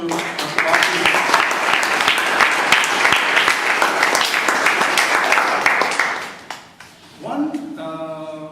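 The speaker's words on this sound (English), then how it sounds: "Let us give a big round of applause to Mr. Babu." An audience breaks into loud, sustained applause. Dense clapping fills several seconds, then fades out, and a voice starts speaking afterward.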